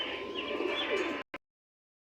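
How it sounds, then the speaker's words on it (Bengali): A pair of Jacobin pigeons coo softly and close up for about a second amid faint background rustle, then the sound cuts to silence with one tiny blip. "খুব সুন্দর এক জোড়া জাক কবুতর আছে"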